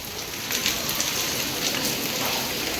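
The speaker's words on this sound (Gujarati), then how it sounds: "વરસાદ ચાલુ થઈ ગયો જો પાછો વરસાદ બંધ થતો નહીં।" Steady rain falls outdoors as a family sets out for the Khodiyar temple, with a motorbike parked nearby; a dense, even hiss of drops continues throughout, moderately loud, with no talking.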